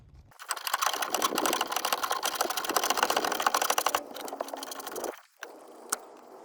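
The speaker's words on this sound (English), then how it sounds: "If you want, obviously, use a ratchet. It'll just be easier." A ratchet wrench works on a brake caliper bolt during a rear brake pad change on a 2005 Scion tC, giving a rapid, loud run of clicks for about five seconds before it stops, with one more sharp click after.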